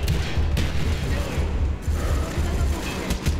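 Steady, dense gunfire and bursts in the Call of Duty Black Ops campaign finale, loud and continuous with sharp transients over rumbling battle noise, while a voice talks in brief snatches.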